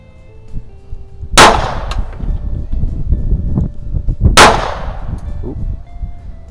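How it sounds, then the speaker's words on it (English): Two sharp, loud gunshots from a J.P. Sauer & Sohn 38H .32 ACP WW2-era German pocket pistol crack out about three seconds apart at an outdoor range, each followed by a short ringing decay over low background rumble. "we'll shoot a couple of magfuls with it and see what I can do with it"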